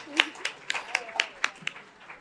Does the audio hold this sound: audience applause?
yes